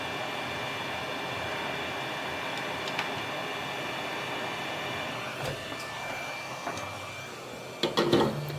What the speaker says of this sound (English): I'm gonna up the temperature to 450 on my heat gun and I'm gonna change the nozzle to a bigger nozzle